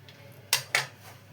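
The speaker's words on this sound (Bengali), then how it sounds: "এভাবে গ্রেট করে নেব।" Boiled potato is grated, heard as two short, brisk scraping strokes close by in an otherwise quiet kitchen.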